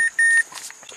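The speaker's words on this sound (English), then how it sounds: "We can definitely unplug this instrument cluster because A, it's beeping" The instrument cluster of a Mazda CX-7 Turbo gives two sharp, high electronic beeps, one short and one longer, close up and clear, followed by faint rustling.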